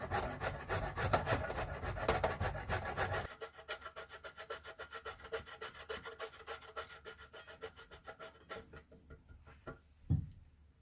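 Wild garlic or similar ingredient grated by hand on a simple hand grater, giving steady rhythmic rasping strokes close by, heavy at first and then lighter and quicker, ending with a soft knock.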